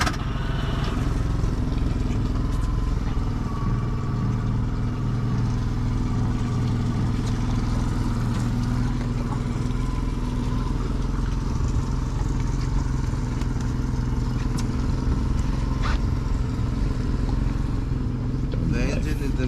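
A sailboat's inboard engine runs in a steady, loud drone after starting, with water and hull noise around it and crew voices talking intermittently over the motor.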